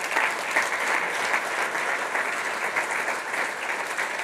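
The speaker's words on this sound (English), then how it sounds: "Applause for the vendors to make it happen." Audience at an S&OP industry event clapping for the sponsoring vendors, a continuous dense wash of applause held evenly throughout, with no talk over it.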